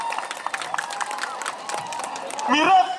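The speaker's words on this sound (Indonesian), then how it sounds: "Tepuk tangan, umur tepuk tangan." A crowd at a barong macan ngelawang cultural parade claps and cheers in quick scattered bursts, with voices shouting over the applause and a louder swell near the end.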